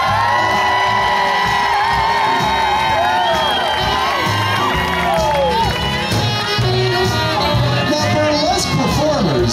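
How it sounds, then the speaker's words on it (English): An audience at a sea lion burlesque show in the New York Aquarium Aquatheater cheers, whoops and shouts continuously, with children's shrieks and some clapping mixed into the loud, sustained crowd noise, while voices talk throughout. "little Brooklyn, like all burlesque performers, loves applause"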